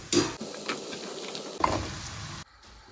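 Raw ginger hits hot oil with a sharp sizzle that crackles steadily, then flares again with a second addition before cutting off, close and clear with no talking.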